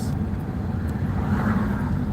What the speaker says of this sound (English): that truck was just in front of us